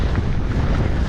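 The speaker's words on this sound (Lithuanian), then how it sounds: "Labai stiprus vėjas, tai reikia laikyti ratus ant žemės" Strong wind on Holyhead mountain, Anglesey, buffeting the microphone during a mountain bike ride, a loud, close, continuous low rumble lasting about a second, with no voices.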